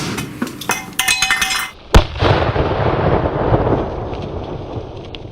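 A sharp, loud firecracker bang, preceded by crackling and clinking, followed by a lingering rumble and hiss fading away.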